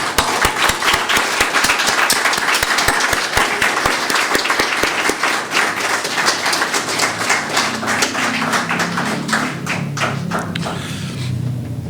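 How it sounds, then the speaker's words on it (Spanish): Church congregation bursts into applause, dense clapping with strong sharp individual claps near the start that thin into a softer, more diffuse patter before fading. "¿Se merece un aplauso?"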